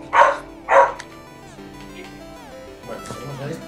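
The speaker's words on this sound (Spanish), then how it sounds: "Ojo mi perra ahí, ladrando en la chapa." A female dog gives two loud, sharp barks close by at the start, followed by softer whining and muffled sounds, with faint background noise.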